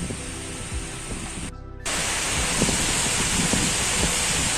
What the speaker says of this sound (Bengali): বাগানের মধ্যে বৃষ্টি সামনে গঙ্গার পাড় ওরকম হাওয়া